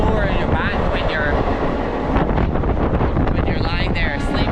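An Indian sleeper train rumbles steadily along the rails in a loud, continuous roar mixed with wind buffeting, faint voices and squeaks rising over the din.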